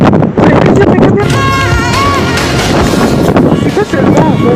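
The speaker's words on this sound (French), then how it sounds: "avec tout ce vent, j'espère que vous m'entendez" Strong wind buffeting the microphone outdoors in Turkey in summer, a loud rough low rumble with gusting surges, while someone talks over it.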